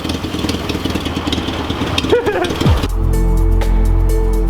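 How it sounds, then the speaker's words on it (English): A Nissan 240SX engine sputters and idles roughly, with uneven low rumbling, a brief rising whine near the middle, then a steadier drone. "Starting to sputter a little bit."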